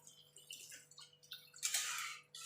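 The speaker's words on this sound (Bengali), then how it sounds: "এবার আমি জল দিয়ে দেবো।" Water poured into a pan of spiced potatoes during home cooking: faint scattered splashes and drips, then a brief louder rushing pour near the end.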